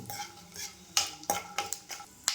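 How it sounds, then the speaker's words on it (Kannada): Peanuts being fried in a little oil in a pan for shavige uppittu: a string of sharp close taps and crackles over a faint sizzle, with no one talking. "ನೆಕ್ಸ್ಟ್ ಶೇಂಗಾ ಹಾಕ್ಕೊಂಡು ಒಂದು ಸ್ವಲ್ಪ ಎಣ್ಣೆ ಒಳಗೆ ಫ್ರೈ ಮಾಡ್ಕೊಳ್ಳೋಣ."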